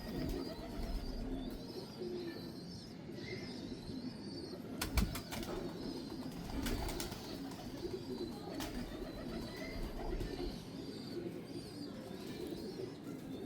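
Pigeons coo in low, rolling calls at a show of main breeder dub-marked and golden pigeons, with a few wing flaps and clicks over a steady murmur of birds in the background.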